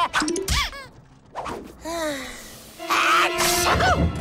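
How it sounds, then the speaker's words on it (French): Cartoon character in a Dalton brothers animated episode sneezing, with exaggerated comic wind-ups and bursts mixed with whooshes, thwacks and squeaky sliding cartoon effects, all loud and close. "J'éternue."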